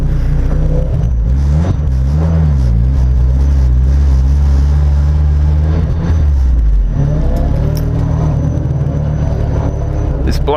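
A 300 hp Mazda Miata race car accelerates hard on a time attack track at Sandown, its loud, close engine rising and falling in pitch through several gear changes, with steady rumble throughout.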